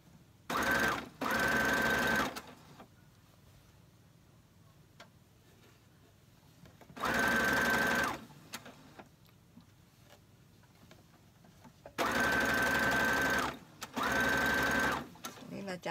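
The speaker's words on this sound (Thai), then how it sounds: "จับเย็บเลยเราไม่เนาแล้วค่ะ จะได้ไม่เสียเวลา" A sewing machine stitches a dress in five short bursts of fast, even whirring, separated by quiet pauses with faint background sound.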